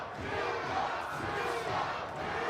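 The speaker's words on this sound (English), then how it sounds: "Nico is what the crowd is yelling here" A loud fight crowd at a boxing match yells and chants a fighter's name in a sustained, roaring wave of many voices that swells and dips slightly without pause.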